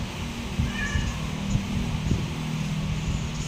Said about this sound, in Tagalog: May pusa dito nag-iiyak, gusto lumabas.